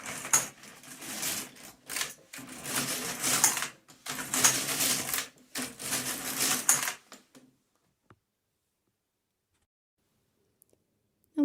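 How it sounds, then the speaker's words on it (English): A knitting machine working four rows of a hand-tooled lace pattern, its carriage rattling across the needle bed in several loud clacking passes with brief pauses, then falling silent. "And now I can knit 4 rows."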